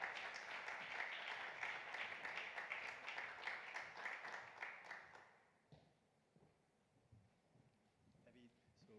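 An audience at an awards event applauds, dense clapping for about five seconds that then dies away into quiet room tone, with faint speech afterward.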